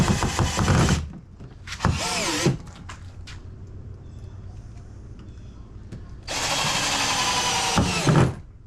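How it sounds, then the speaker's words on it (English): A drill drives stainless screws into a wooden board for a kayak trolling motor mount, with two short whirring bursts, a quiet gap with small handling clicks, then a longer sustained run near the end. "The screws I'm putting into the board are now stainless."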